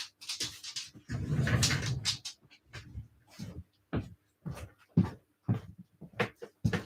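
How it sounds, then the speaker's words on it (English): Dog panting and snuffling indoors, with a burst of scrabbling movement and soft shuffles, close and fairly quiet, followed by irregular short noises like paws and a door or cupboard being handled. "Just got to let the dog out."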